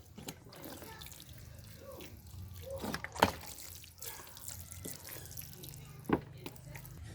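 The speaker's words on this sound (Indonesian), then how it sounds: "siram bagian media tanamnya supaya lembab ya." Soft splashing and trickling water as soil in a polybag of red ginger is watered, with a couple of brief sharper splats, fairly quiet and close.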